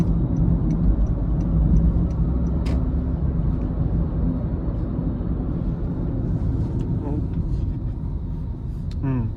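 Cabin sound of a 2017 Honda Jazz 1.5 E accelerating at 58% throttle, a steady, loud engine drone with road and wind roar that holds throughout, plus a few faint clicks.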